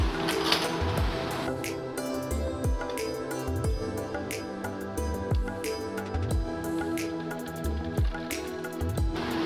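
A sewing machine stitches folded pieces of waste cloth together into an oval floor mat, its needle running in a steady mechanical chatter with a regular low thump roughly every second, close and continuous with no talk.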